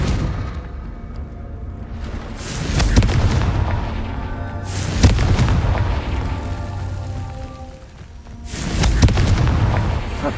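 Confringo fire spell explosions in Hogwarts Legacy, three loud booming blasts spaced a couple of seconds apart over a continuous rumbling game background, with no talking.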